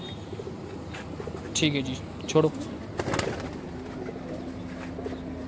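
Pigeons coo in short bursts at a loft of flying pigeons, close by, partly under steady talk and background noise.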